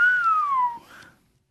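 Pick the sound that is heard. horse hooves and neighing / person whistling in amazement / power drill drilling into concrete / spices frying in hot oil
person whistling in amazement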